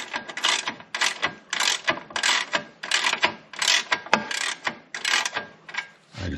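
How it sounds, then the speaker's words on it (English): Wrench or ratchet loosening bolts on a Can-Am Canyon drive belt assembly, making rapid, close clicking and ratcheting bursts in a steady repeating rhythm with brief pauses. "we're going to remove these 2 bolts, and there's 2 bolts on the inside"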